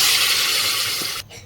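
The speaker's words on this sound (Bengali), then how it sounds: "এবার আমি এটা মশলার মধ্যে ঢেলে দেবো।" A liquid chickpea mixture for ghugni is poured into cooked spice masala in a kadai, making a steady, dense splashing hiss for about a second before it stops abruptly. No one speaks.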